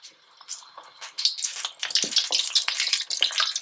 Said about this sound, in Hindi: अब आपने जो है इस तरीके से इसको गर्म तेल में डालते जाना है